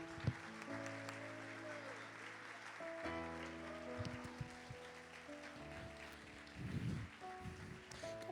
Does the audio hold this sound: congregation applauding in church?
yes